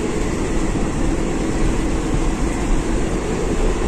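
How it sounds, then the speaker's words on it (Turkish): Constant low rumble and rushing noise of riding inside a moving train carriage bound for Malaysia, steady and enveloping, with no talking. "Şu an trendeyiz."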